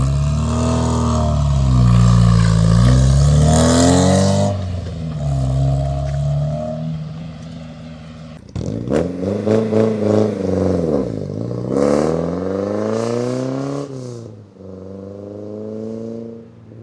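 A Sunbeam Rapier's engine revs up and down through its exhaust, loud and close, with two separate runs of rising and falling engine pitch and a brief break between them.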